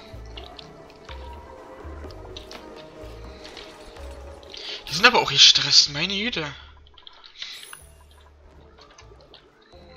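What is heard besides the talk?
dripping dirty water in video game Oxygen Not Included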